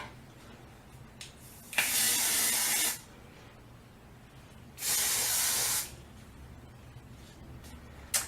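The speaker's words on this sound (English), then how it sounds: "And to top it off, we're just going to add a little bit of hairspray." Hairspray hisses from an aerosol can in two separate bursts of about a second each, close and sharp against a quiet room.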